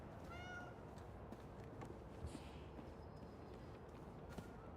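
A cat meows in a video game, a short rising call early on over a quiet, steady ambient bed, followed by faint scattered clicks and soft taps.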